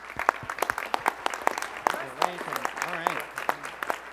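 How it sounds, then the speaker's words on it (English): Scattered clapping from a small group at an Emmy awards ceremony runs throughout, with people talking over the applause. "So big round of applause to them."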